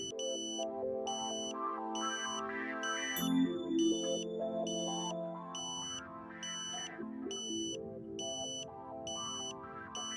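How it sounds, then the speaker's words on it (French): Repeating beeps from a satellite modem while a Tooway KA-SAT dish on a mid pole is aligned, sounding as a steady, evenly spaced series of short high pips over a continuous background hum. "Vous entendez ensuite la tonalité de verrouillage."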